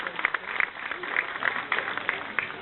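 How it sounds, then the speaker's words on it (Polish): Applause for boys' youth football academy teams at a tournament opening, a steady patter of hand claps from a crowd, moderately distant and continuous for a few seconds. "Wielkie brawa dla naszych chłopców."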